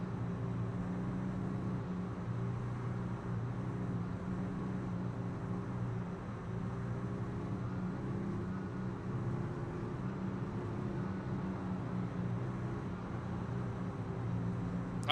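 Off-road race truck engine from a distance during laps at a Kern County off-road race, a steady broadband drone with strong low harmonic hum held for the whole stretch, no talk.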